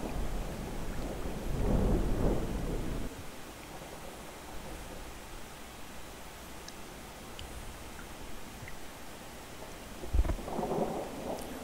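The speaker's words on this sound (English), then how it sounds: "I do like the sound of the thunder." Thunder and rain in the video game Rain World: a deep rumbling thunder roll swells early on and fades, steady rain hiss continues underneath, and a second sharp thunder crack bursts near the end.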